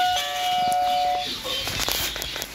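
A short electronic chime from a battery-powered infrared motion sensor doorbell rings at the start, then fades into clattering handling noises and faint background sounds.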